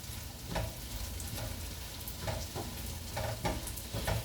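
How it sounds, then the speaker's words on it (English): Gnocchi browning in a skillet on a raised burner gives a steady broadband sizzle, with a utensil stirring and scraping at intervals and no talking. "we can probably turn this up to a 5, 6 to kind of help with the browning process"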